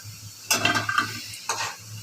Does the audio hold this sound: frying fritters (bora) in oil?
yes